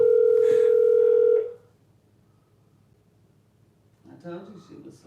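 Telephone ringback tone of an unanswered call, a loud steady tone lasting over a second before cutting off, followed by quiet and then faint voices in a room.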